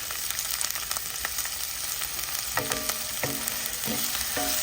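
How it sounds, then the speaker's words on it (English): Onions sautéing in lard in a skillet, a steady bright sizzle with occasional stirring scrapes and clinks toward the end, close and fairly loud, no voices. "we got a little bit of lard in our skillet here. We're going to saute some onions"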